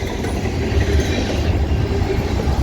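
A freight train with container cars rolls past close by in Minneapolis, making a loud, continuous rumble and rattle with faint wheel clatter.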